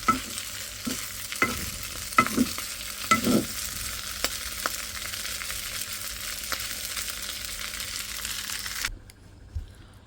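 Food is stirred and heated in a frying pan, a steady close sizzle with a few sharp scrapes and knocks of the utensil early on, then the frying cuts off near the end.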